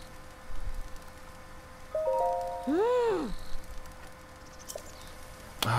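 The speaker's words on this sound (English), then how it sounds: "Ah, it started raining." Rainfall in Zelda: Breath of the Wild, a soft, steady hiss of patter beneath rising and falling chime-like game tones, fairly quiet throughout.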